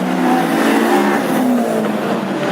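Classic hot rod race cars circle a track at Hednesford on the final lap, loud engines screaming and droning as cars pass close, with shifting pitch and a tire squeal.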